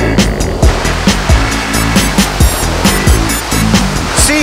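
Water rushing loudly and steadily through an indoor surf wave pool, with a continuous heavy roar and repeated thumping splashes at a regular beat, close and enveloping.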